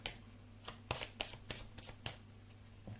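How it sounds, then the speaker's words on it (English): A tarot deck being shuffled by hand, with a series of crisp riffling bursts at an irregular pace, close and soft. "So we'll shuffle."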